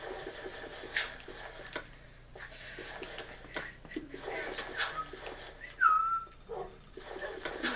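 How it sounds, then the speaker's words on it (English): A person whistles poorly in short, uneven bursts, with one brief wavering pitch near the end, over low background rumble and scattered clicks from a farm survival game session. "Terrible at whistling, can you tell?"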